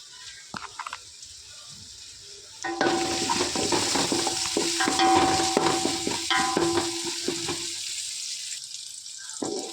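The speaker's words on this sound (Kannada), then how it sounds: "ಈರುಳ್ಳಿ ಸ್ವಲ್ಪ ಕೆಂಪಾಗಬೇಕು ಒಳ್ಳೆ ಫ್ರೈ ಆಗಬೇಕು" Onions frying in a pan for a Tulu-style masala, a louder broadband sizzle starting a few seconds in with stirring scrapes and clinks, after quieter handling noises, no talk.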